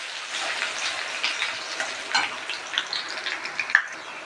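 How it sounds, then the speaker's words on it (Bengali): Chopped garlic fries in hot oil with a soft, continuous sizzle and scattered light crackles and pops, fairly quiet and without talk. "তো দেখো বন্ধুরা রসুন কুচি ভাজা করা হয়ে গেছে"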